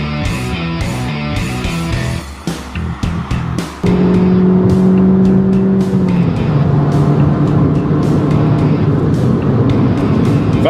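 Fiat 500 Abarth engine and exhaust revving loudly and close, with choppy blips before settling into a sustained, raspy drone, no talking.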